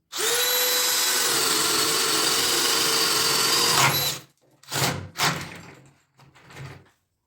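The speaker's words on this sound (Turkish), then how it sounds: "Arkadaşlar 32'lik uç ile bu deliğimizi delmeyi deneyeceğiz." A power drill with a 32 mm bit whines steadily for about four seconds while boring a hole, then stops; a few short bursts of the motor follow.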